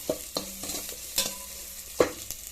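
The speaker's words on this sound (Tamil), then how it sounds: "வெங்காயம் நல்லா எண்ணெயில் வதங்கிட்டு இருக்கேன்" Onions fry in oil in a pan while being stirred, with soft sizzling and a handful of sharp scrapes and clinks from a utensil, fairly quiet and close.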